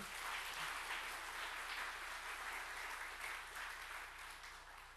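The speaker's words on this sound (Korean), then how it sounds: "하나님께 영광의 박수 드릴까요?" Applause from a church congregation at a worship service, a soft, even wash of many hands clapping that sounds distant and faint and slowly tapers toward the end.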